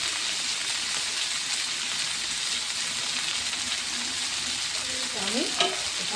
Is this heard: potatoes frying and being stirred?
yes